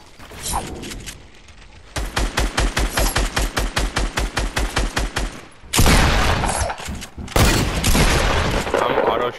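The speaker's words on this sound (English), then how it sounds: "I'm auto shooting." Rapid automatic gunfire in a video game comes as a close, loud rhythmic burst of evenly spaced shots lasting a few seconds, followed by heavier booming blasts. A voice speaks in the background.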